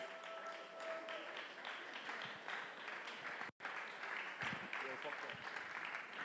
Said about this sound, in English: I know that we can afford to still be clapping.